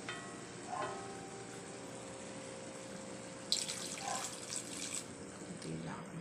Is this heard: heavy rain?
no